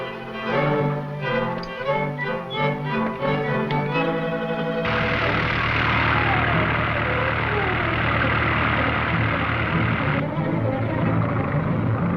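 An airplane engine drones loudly and steadily in flight as a 1940s radio drama sound effect, rising in after a burst of orchestral music and holding a constant roar.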